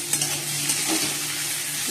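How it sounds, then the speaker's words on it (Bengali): Potatoes frying in a pan give a steady, close sizzle with faint stirring scrapes, heard alone for a short moment. "আলু ভাজা বসিয়ে দিয়েছি"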